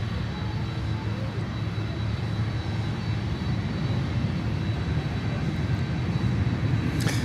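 A Southwest airliner landing on runway 9 at Miami airport, its engine noise a steady, broad roar that holds at even loudness throughout.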